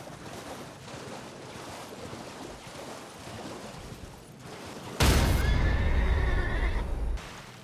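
Torrent, the spectral steed in Elden Ring: Shadow of the Erdtree, neighs suddenly and loudly, a sharp close whinny that bursts in partway through after a stretch of quieter wind-like ambience, then cuts off.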